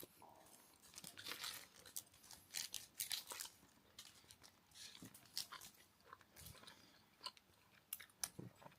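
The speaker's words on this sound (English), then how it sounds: "It takes a few chews for that one." Close, wet chewing of a banana-flavoured Australian chocolate candy bar, with irregular sticky bites and smacks coming in uneven bursts, no speech.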